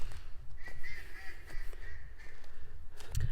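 A backyard duck kept with chickens gives honking, quacking calls outdoors against steady low wind or background rumble. The calls come from fairly close, one after another.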